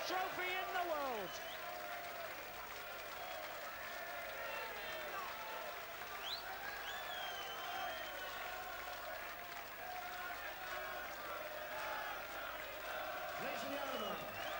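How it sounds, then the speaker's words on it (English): Crowd applause after the 1988 Embassy darts world championship final, sustained dense clapping and cheering from a large hall audience filling the whole stretch, with voices calling out through it. "let them both hear your applause for champion and the runner-up, Bob Anderson, John Lowe."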